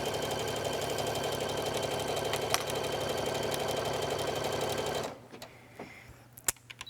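A sewing machine zigzag-stitching stretch fabric runs steadily and close for about five seconds, then stops, leaving a few faint clicks and handling sounds.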